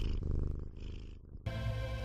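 A house cat purrs in a low, steady rumble that stays close and fairly loud for about two seconds, with a brief dip partway through.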